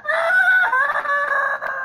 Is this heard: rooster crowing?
yes